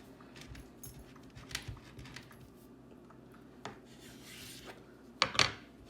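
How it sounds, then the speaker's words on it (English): A sharp knife slices food in half on a cutting board: faint scraping and rubbing, then one louder, crisp cutting stroke near the end, all quiet and close. "Take a really sharp knife and just cut it in half."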